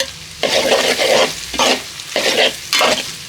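Ginger garlic paste and clove powder frying in a pan as it is stirred, bursts of loud sizzling and scraping in four rhythmic strokes, close up with no talk.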